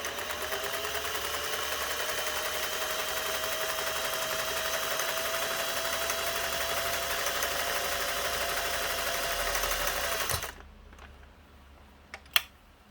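A Singer 401a sewing machine stitches steadily at a wide zigzag setting, a continuous close whirring hum with rapid needle clatter that stops abruptly, followed by a few sharp mechanical clicks.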